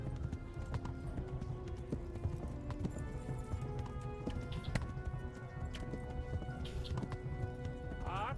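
A horse gallops in the medieval video game Kingdom Come: Deliverance, its hooves beating a quick, steady clip-clop rhythm with a brief whinny, heard fairly close over a low background.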